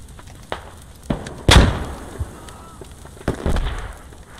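Grenade explosions and nearby gunfire in the military shooter game Squad, several heavy thumps and bursts with one big blast and rumbling tails, close and loud against a quiet background.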